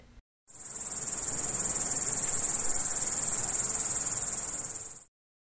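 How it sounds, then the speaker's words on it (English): A house cricket chirps in a fast, continuous high trill, loud and close, starting abruptly and stopping after about four and a half seconds. "House cricket"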